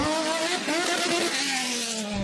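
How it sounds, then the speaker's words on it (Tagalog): A Formula 1 race car engine revs hard and high-pitched, its harmonic whine rising and falling continuously for a couple of seconds, loud and close with no talk over it. "At sa bawat pagbira ng makina ng mga international racers na ito"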